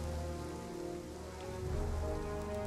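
Steady rain falling on surfaces in the fantasy strategy game Total War: Warhammer II, a continuous even hiss and patter with low rumbling beneath, no talk.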